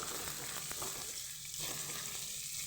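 Whole garam masala spices, cardamom and bay leaf, fry in oil for paneer fried rice as they are stirred together. A faint, even hiss with a brief scrape runs throughout.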